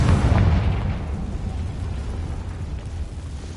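Spell explosion from a Harry Potter video game: a loud booming burst at the start that decays into a lingering rumble, with no talk over it.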